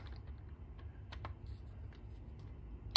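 A torque wrench tightens the mounting plate screws for a red dot sight on a Glock 45 MOS, with a few faint, sharp clicks and taps scattered over quiet room noise, close and light.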